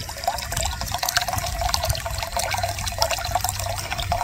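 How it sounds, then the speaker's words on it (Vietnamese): Water from a tap pours steadily and splashes into a container, filling it to soak dried seaweed, with continuous close running noise and no talk. "Mình chế nước cho mình ngâm là nó nở ra."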